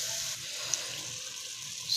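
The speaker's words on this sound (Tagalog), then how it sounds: "Lalagyan ko muna ng tubig konti." A small amount of water is poured into a cooking pot for pasiw na bangus, milkfish stewed with potatoes, a steady close splashing hiss that eases and then swells again at the end.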